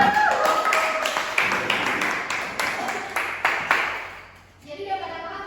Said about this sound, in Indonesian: Tepuk tangan dulu dong teman-temannya.